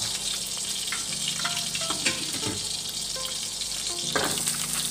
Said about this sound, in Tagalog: At magpainit tayo ng kaldero. At maglagay na tayo ng mantika.